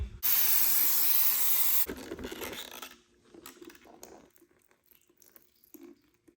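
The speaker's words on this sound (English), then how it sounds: "I'm going to brake clean the whole thing, get it all nice and clean." An aerosol can of brake cleaner sprays a fuel surge tank in one loud hiss that lasts under two seconds. Quieter rattles and handling clatter follow.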